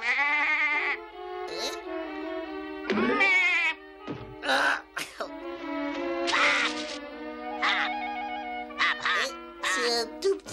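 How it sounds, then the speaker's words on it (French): Small cartoon bird in an animated Smurfs episode, calling with high squeaky, quacking chirps repeated in bursts, mixed with animated character voices throughout. "C'est un tout petit oiseau."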